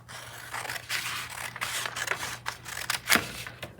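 Paper being cut into rectangles with scissors, a run of close snipping and rustling strokes with a sharper cut near the end, steady low hum underneath.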